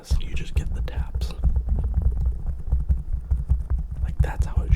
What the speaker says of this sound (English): You just get the taps.